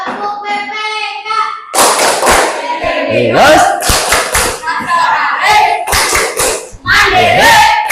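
Children clapping in rhythmic bursts and chanting together during the Tepuk PPK classroom clapping game, with claps and thuds mixed with their voices.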